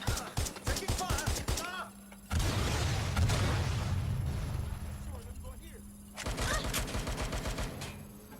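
Gunfire from a combat firefight in the game Watch Dogs: Legion: bursts of sharp rapid shots at the start and end, with a sustained rumbling blast of fire in between, loud and overlapping with other game sounds.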